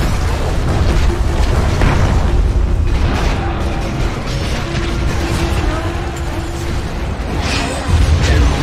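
A Dota 2 Ability Draft match plays as a middle tower is destroyed, with loud booming impacts, crunching mechanical clatter and layered game effects rolling together in a dense, close mix.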